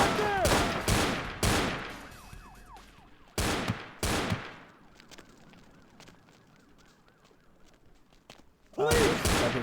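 Gunfire in Vampire the Masquerade Bloodlines, with several loud sharp shots in quick bursts early on, a pair more midway, and another blast at the end over a low game-ambience bed.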